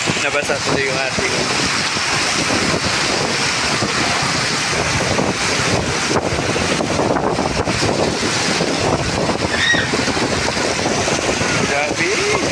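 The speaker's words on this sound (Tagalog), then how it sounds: "Napakalakas ng hangin." Violent storm wind batters the surroundings in a loud, unbroken roar mixed with splashing water and rain, close and relentless, with faint voice-like sounds now and then.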